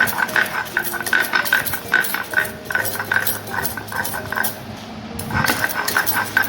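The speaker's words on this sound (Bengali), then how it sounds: "পাটার মধ্যেই আমি শুকনো লঙ্কাগুলো বেটে নেব।" Dried red chillies ground by hand on a flat grinding stone for a Bengali mutton dish, a steady rhythmic scraping and rubbing that repeats close by with no talk.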